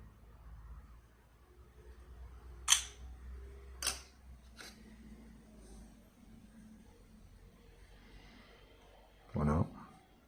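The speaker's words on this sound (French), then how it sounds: "On va essayer de prendre une petite photo." Ulefone Power Armor 14 Pro phone camera shutter firing a photo: a couple of faint, short clicks in a quiet room, with soft speech around them.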